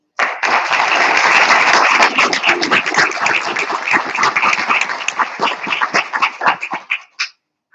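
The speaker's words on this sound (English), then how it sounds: "Let's give them a big round of applause once again." An audience at the opening of a Hispanic farmers and agricultural professionals symposium claps loudly and steadily, dense applause that thins into scattered separate claps near the end before stopping abruptly.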